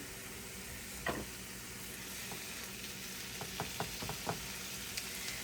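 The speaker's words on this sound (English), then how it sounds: "We are going to add that rice cauliflower to our pan." Riced cauliflower hitting a hot pan with melted fat for a cheesy beef keto dish, a steady close sizzle with scattered scraping and clicking stirs, no voices.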